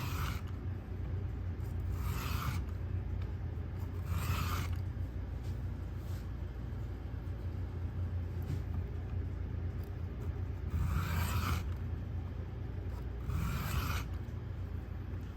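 A knife edge glides across a flat sharpening stone in slow, repeated rasping strokes, several soft scrapes spaced a couple of seconds apart, close and quiet against a low background rumble.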